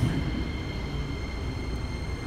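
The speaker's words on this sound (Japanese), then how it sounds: "この電車は6両編成ですねはいなのでホームの中ほどに停車します" A six-car Keikyu train rolls steadily into a station platform with a loud, close rumble and faint high tonal whine.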